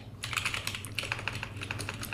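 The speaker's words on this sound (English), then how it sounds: "I'm going to type in I make video tutorials" Rapid typing on a computer keyboard, a steady stream of light, close key clicks at an even pace, with no voices over it.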